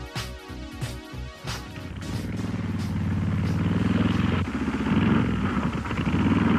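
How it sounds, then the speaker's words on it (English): A streamlined Harley-Davidson motorcycle with a 61 cubic inch overhead valve engine starts with a few sharp mechanical knocks, then settles into a steady, loud engine drone that builds and holds, with no voices. "riding this streamlined motorcycle powered by a 61 cubic inch overhead valve engine"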